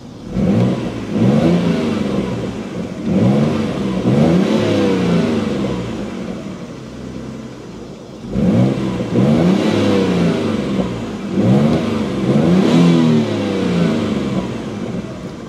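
A 1991 Dodge Stealth RT twin turbo revs repeatedly in sport mode with the exhaust flap open, loud and close, in rising and falling pulls with a short lull midway.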